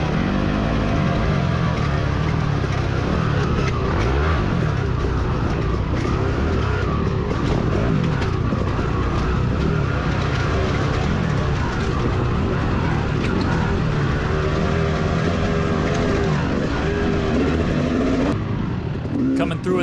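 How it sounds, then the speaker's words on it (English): Motocross dirt bike engines roar loud and continuous at the Loretta Lynn's amateur race, the pitch wavering with throttle as a rider follows close behind, while a voice talks over the engine noise throughout. "you can hear Justin still right behind me"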